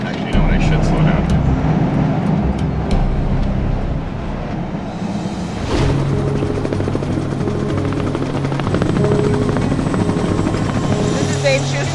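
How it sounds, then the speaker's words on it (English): A drilling company's helicopter roars loudly nearby at a jade mining site, rotor thumping continuously throughout with a constant engine drone. "This is Dave Schuster's chopper"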